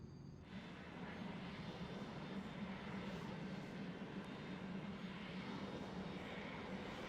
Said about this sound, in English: These take a while to get going because they're such powerful engines.